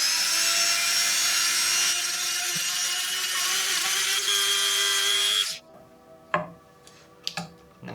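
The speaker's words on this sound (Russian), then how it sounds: "У меня здесь сосна, брусочек из сосны, и обтачивается вот этой наждачкой он очень легко." A DEKO DKRT170ST2 rotary tool whines at high speed with sandpaper against a small pine wood block, a loud, steady buzzing grind for about five seconds before it cuts off, followed by a few handling knocks.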